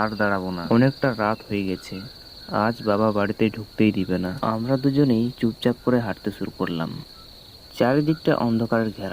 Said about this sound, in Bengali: শুধু ঝিঝি পোকার ডাক শোনা যাচ্ছে